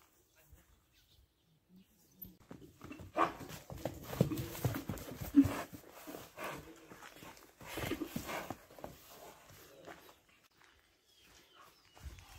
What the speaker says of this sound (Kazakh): Мынакей туугандар, 3-чү номердеги биз атты тартып көргөзүүнү баштайлы.